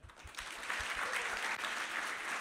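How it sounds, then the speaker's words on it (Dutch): Audience applause on a Dutch talk show recording, a dense, steady wash of many clapping hands held at even loudness for the whole stretch, with no voices over it. "Dus een heel hartelijk applaus voor Simon Burgers, die dit onderwerp heeft"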